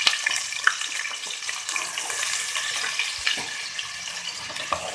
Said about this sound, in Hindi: प्याज ब्राउन कर लेंगे।